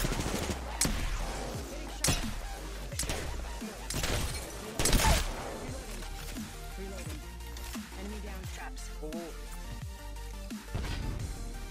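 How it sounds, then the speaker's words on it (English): Rapid Peacekeeper shotgun quick-fire in Apex Legends, a string of loud booming blasts with echoing tails and layered game effects, with no talk over it. "Here's another example of the quick fire with a peacekeeper."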